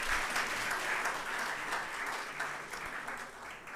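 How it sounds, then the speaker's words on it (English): Conference attendees at a research conference's anniversary event clap in a steady, moderately loud round of applause that continues throughout without talk. "let's give another round of applause"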